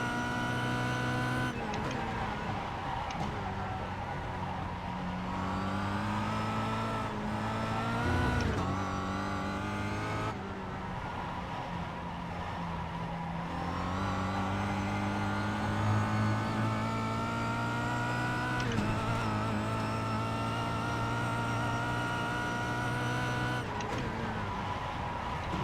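A race car engine from an iRacing time trial revs and shifts through gears, climbing and dropping in pitch repeatedly, steady and close with no talk over it.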